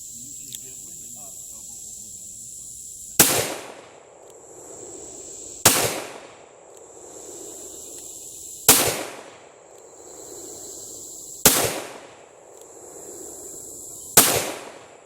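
.38 Special pistol loaded with 4.8 grains of 2028 shotgun powder behind a 161-grain Lee round flat-nose bullet fires five sharp, loud shots spaced about three seconds apart, each with a short echoing decay outdoors.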